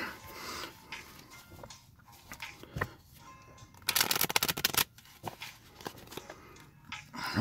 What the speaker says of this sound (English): All right, shuffle them up.